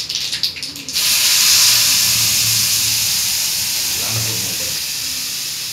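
Ground coconut paste hits a hot tempering of mustard seeds, cumin and curry leaves for coconut chutney, erupting into a loud, steady sizzling hiss after a brief quieter crackle, continuing strongly throughout.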